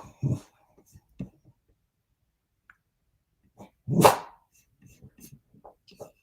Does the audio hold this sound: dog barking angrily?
yes